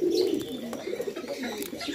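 Big-sized Mumbai pigeons coo nearby, with a strong rolling coo at the start followed by softer, overlapping murmurs and a few faint chirps and clicks in a busy loft.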